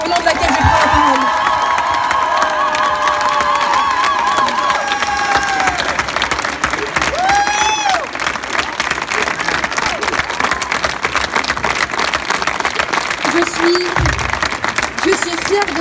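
A crowd applauds and cheers a mayoral election victory in Poitiers, France, as sustained loud clapping with whoops and shouted voices runs throughout, with a speaker's voice partly heard over it.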